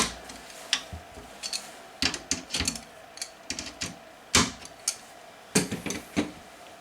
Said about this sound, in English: You might have to use a pair of pliers to kind of press those in, just like this.